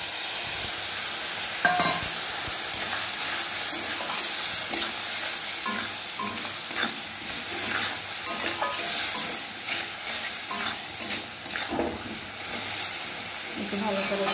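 Chili powder and turmeric masala, mixed with water, stirred and fried in a hot pan: a steady close sizzle with scraping spoon strokes and occasional sharper clicks throughout.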